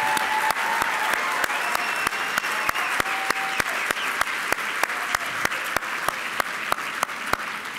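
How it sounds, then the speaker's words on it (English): Teachers union chapter leaders fill a hall with sustained, dense applause that keeps going at a steady level, with occasional sharper claps standing out close by. "Give yourselves a huge round of applause, chapter chairs and chapter leaders."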